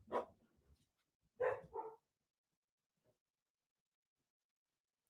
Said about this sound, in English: I have no idea what my dogs are going off about.